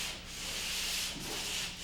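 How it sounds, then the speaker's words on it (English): Light hand sanding of dried drywall joint compound to knock down trowel marks and ridges, a soft, steady scratchy rubbing in back-and-forth strokes with brief pauses, close and fairly quiet. "I like to sand out any trowel marks or ridges or unfeathered edges that I left while second coating."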